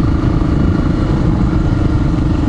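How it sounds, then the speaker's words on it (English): A Honda XR400R motorcycle riding along a gravel forest road gives a steady, close engine drone with rough, rumbling texture and faint clatter, holding an even level throughout with no voices. "you just sort of have to let the bike wobble its way through"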